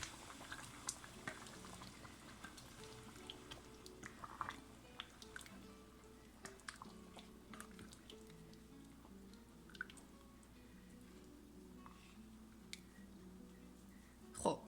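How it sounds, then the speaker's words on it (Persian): A pot of water with rice and meat bubbles on the stove, soft, close, irregular popping and gurgling over a low steady simmer, with occasional brief louder plops. "خب آب قابلمه دوباره به جوش اومد"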